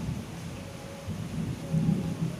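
Heavy rain falling outside, a soft steady wash with low rumbling swells, faint and heard from indoors.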